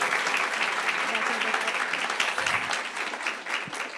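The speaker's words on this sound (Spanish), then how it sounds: "yo sí quiero que le regalemos un muy fuerte aplauso al doctor" Audience at a lecture on human identification through Wi-Fi networks applauding the doctor, a loud, full, sustained round of clapping from many hands, easing slightly toward the end.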